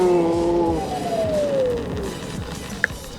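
Meepo NLS electric skateboard braking hard, a steady whining motor tone gliding downward as the board slows, over rolling wheel and road noise, with a brief sharp click near the end.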